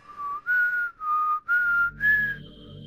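A person whistles a short tune of four clear sustained notes with brief gaps, close and fairly loud, with faint background noise entering at the end.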